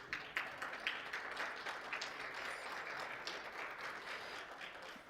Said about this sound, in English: let's give a big round of applause to our esteemed panelists.